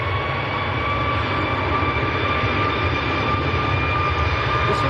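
Boeing 737 MAX 8 jet on its takeoff roll at Manchester Airport, a steady loud engine roar with a sustained whining tone, heard from a distance and without talk.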